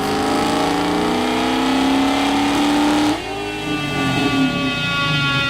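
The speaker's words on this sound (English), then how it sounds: "the LT4 provides a smooth running engine that goes crazy when you drop the hammer." A Camaro with a custom-tuned GM LT4 V8 revs hard, its pitch climbing loudly for about three seconds before dropping sharply and settling into a rough, burbling idle with lighter blips, close and alone.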